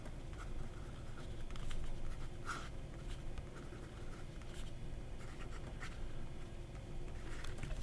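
A fountain pen with a fine nib scratches across paper in soft, close strokes, with faint scratchy bursts over a steady low background hiss.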